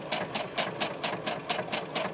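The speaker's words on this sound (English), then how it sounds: "my desk vibrates quite a lot as well when I use the sewing machine here" A desk-mounted sewing machine stitches in a quick, even rhythm of about four pulses per second, fairly quiet and close, running alone with no voices.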